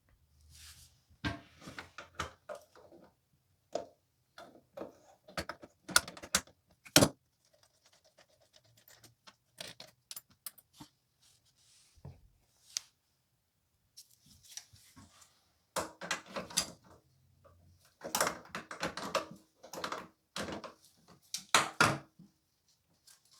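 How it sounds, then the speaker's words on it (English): Screws being taken off while removing a toilet to replace its gasket, heard as bursts of scraping, clicking and tool handling separated by quiet pauses, close and fairly faint, with no talking. "let's go to now taking off the screws here"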